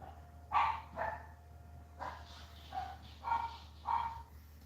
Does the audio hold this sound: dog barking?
yes